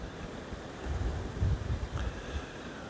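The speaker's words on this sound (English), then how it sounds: "Now it's quite windy out there." Wind blows across open water at an island fishery, a low, steady rushing with gusting surges and faint wave noise, no voices.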